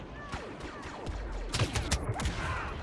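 Sharp blaster shots sound in a Star Wars Battlefront multiplayer match, a handful of bright zaps at first, then a quicker cluster of louder bolts after the midpoint, with no talking.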